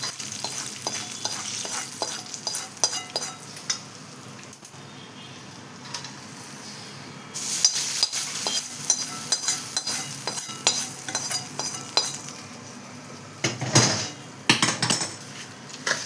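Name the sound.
mixing tempering into rice for amla rice in pot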